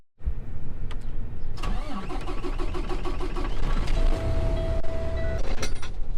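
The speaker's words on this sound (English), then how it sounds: "I'm gonna start this truck up" A grain truck's engine cranks and catches, then settles into a loud, close idle, with clanks and a brief tonal whine in the background.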